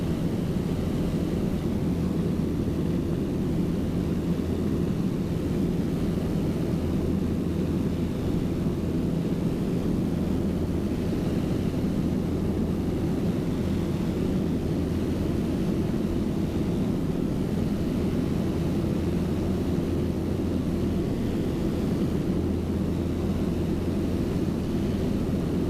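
Steady, loud drone of a Piper PA28 Cherokee's piston engine in climbing flight near London, a constant hum with a low tonal band held unbroken, no talk.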